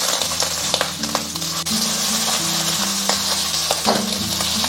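Steady, loud sizzling of shrimp frying in oil over low heat, with occasional clinks and scraping of a utensil against the pan.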